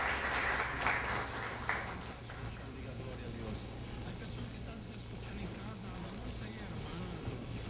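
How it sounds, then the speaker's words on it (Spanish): Scattered applause in a hall for five newly elected youth council members at a recognition ceremony, a few seconds of clapping that fades under steady background hum and murmuring voices. "Un aplauso para ellos cinco."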